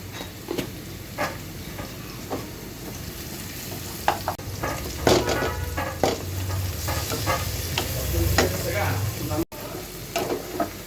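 Boal fish jhuri frying in a pan, with a steady sizzle broken by scraping stir strokes and occasional louder clatters; a voice comes in faintly now and then.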